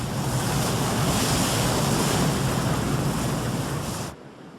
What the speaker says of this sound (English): Though more violent than the sea, the waves are puny ripples against the majesty of the cliffs that rise to the world above.